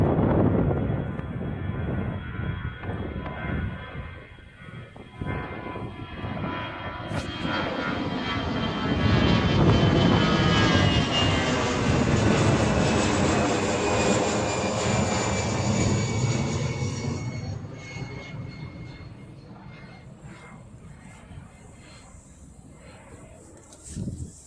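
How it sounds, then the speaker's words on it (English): An all-white Airbus A320 jet airliner taking off in gusty wind, its engine roar swelling to a broad peak midway and then slowly fading into the distance over about twenty seconds. "So I've got an Airbus A320. I think it's all white. It's actually taking off."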